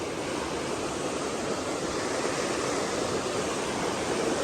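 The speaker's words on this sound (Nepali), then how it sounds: "तर ह्युज नै छ यार खोला" A huge river flowing beside a jungle hiking trail, heard as a dense, unbroken roar of rushing water, steady and loud with no voices over it.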